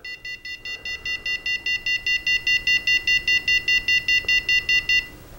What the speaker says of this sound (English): I have the programming for this set up to beep on and off 25 times when it gets triggered